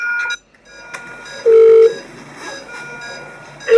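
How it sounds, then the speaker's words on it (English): Hospital desk telephone being dialled to bleep a doctor: a few short electronic keypad tones and beeps, one held tone mid-way and another at the end, close and fairly quiet. "So I'm going to go over to the phone and bleep them."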